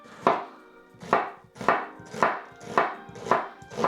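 A knife chops an onion on a cutting board in six evenly spaced, crisp, close thuds at a steady unhurried pace, with no voices.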